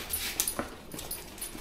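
A dog whimpers and yips in short, high, breathy bursts in a farm workshop, close by with faint shuffling and background noise, no talking heard.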